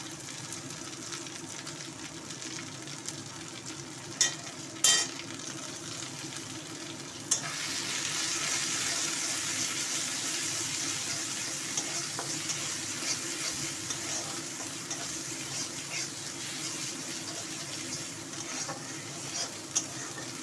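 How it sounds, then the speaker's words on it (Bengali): Ghatkol leaf paste stir-fried in a pan, giving a steady close sizzle with a few sharp clicks of a utensil against the pan. "এবার এই ঘ্যাটকল বাটাগুলো আমি দিয়ে দেবো।"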